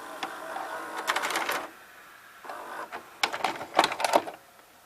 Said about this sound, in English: So it's a capstan motor that does, that ejects the cassette and all that.